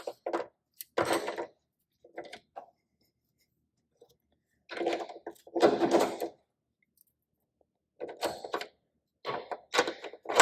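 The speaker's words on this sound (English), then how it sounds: "now we're just tightening this up, getting that 17mm" A 17mm wrench tightens a bolt while fitting GoRhino RB20 slim line running boards to a Bronco, heard as several short bursts of ratcheting and metallic scraping separated by quiet pauses, close by.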